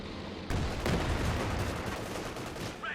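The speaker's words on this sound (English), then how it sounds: "Bit of shooting there with its 90mm gun" Heavy cannon fire from a Pershing tank's 90mm gun in the strategy game Company of Heroes 2, a sharp loud blast followed by sustained rumbling battle noise and further gunfire, with a brief higher sound near the end.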